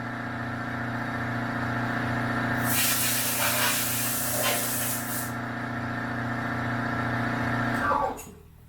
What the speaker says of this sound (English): So I'm going to fire up the air compressor and I'm going to blow that out.